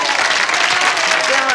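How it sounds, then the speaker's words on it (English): A studio audience at a televised comedy show claps steadily throughout, a dense, even wash of applause with no single voice standing out. "Let's have a round of applause for this guy."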